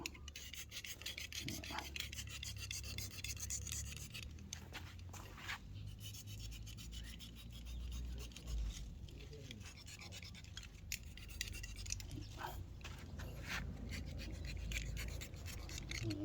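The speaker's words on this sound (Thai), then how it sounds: "ขูดท่อน้ำน้ำเลี้ยงนิดนึง นะครับ" Someone scrapes the cambium layer of a jackfruit branch with a blade during branch layering, making a steady, close rasping and rubbing sound that runs for the whole stretch with no talking.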